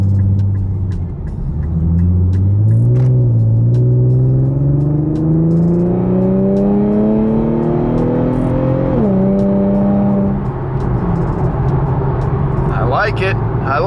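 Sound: Infiniti Q50 car accelerating onto interstate

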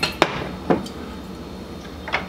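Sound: whisking cake flour in a medium bowl

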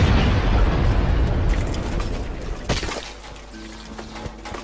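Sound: explosion in the video game Borderlands 2

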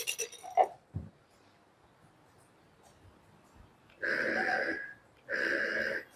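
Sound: shaking the dice plate in a xóc đĩa game

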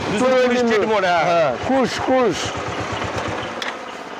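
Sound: motorcycle engine running idle

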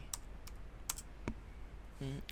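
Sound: typing on a computer keyboard

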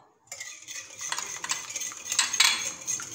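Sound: stirring pancake batter with utensil in bowl

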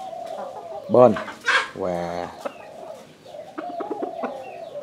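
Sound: rooster clucking

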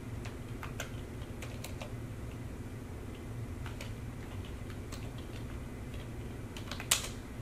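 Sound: typing on a computer keyboard

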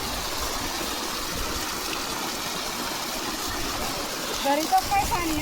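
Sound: high-pressure water stream

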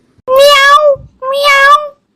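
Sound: cat meowing

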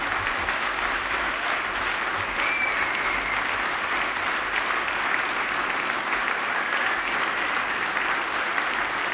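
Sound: audience applause at award ceremony

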